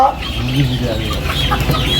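Colour bird broiler chickens on a poultry farm give low, scattered clucks amid a dense background murmur, fairly close and continuous.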